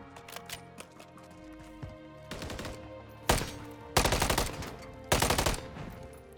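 Gunfire from Call of Duty MW3 multiplayer, with a few light rapid shots early, then three loud bursts of automatic fire separated by short pauses, set over quieter game sound.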